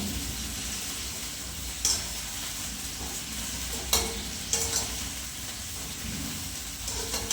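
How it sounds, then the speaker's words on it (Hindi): Cauliflower and potatoes sizzle and crackle in hot oil, with a few sharp clinks and scrapes of stirring breaking through the steady frying hiss. "ਪਹਿਲਾਂ ਆਪਾਂ ਗੋਭੀ ਤੇ ਆਲੂ ਫਰਾਈ ਕਰ ਲਾਂਗੇ"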